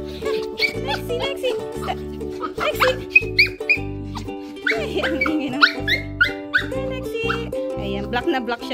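A black Pomeranian dog barks and whimpers in short bursts close by, mixed with squeaky yaps, while a person talks and calls to it over a low background hum.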